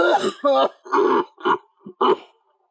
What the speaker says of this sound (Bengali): ঘরে কাশি হইতেছে নাকি ভাই?